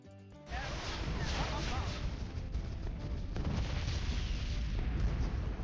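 Moab Barrage ability in Bloons TD 6 firing on ZOMG blimps: a loud, dense wall of booming explosions that starts abruptly after a brief quiet moment and rolls on steadily, with a voice talking over the barrage.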